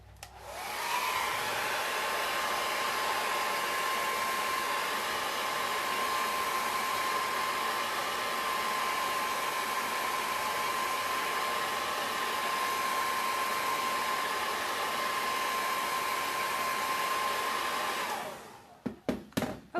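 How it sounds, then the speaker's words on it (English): A hair dryer blows steadily at close range for about eighteen seconds, a loud continuous whoosh with a thin whine running through it, then clicks off with a few brief knocks at the end. "help speed up the drying process with a hairdryer"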